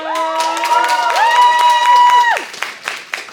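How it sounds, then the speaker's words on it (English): Convention audience at YumeCon 2022 applauding and cheering, with loud sustained whoops and shouts riding over steady clapping before it thins out into scattered claps. "let's give a big round of applause for YumeCon!"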